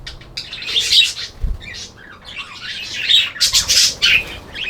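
Budgies in an outdoor aviary during hot summer weather, a lively flock chattering with bright chirps and squawks in quick overlapping bursts, fairly close, with a brief flutter of wings.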